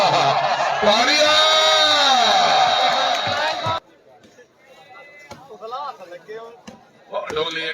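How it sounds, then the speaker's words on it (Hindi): Loud, dense cheering and clapping from a crowd at Iqbal Stadium fills the first few seconds, then cuts off sharply into quieter talk and scattered noise, with a brief burst of crowd sound returning at the end. "तालियां"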